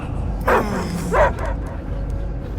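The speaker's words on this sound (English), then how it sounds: "I hear only barking." Dog in the Guardians of the Galaxy video game giving two loud, close barks about a second apart, with quieter game ambience around them.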